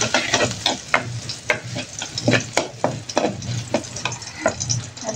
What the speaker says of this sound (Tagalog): Magigisa na po tayo. Konting mantika na. Bawang.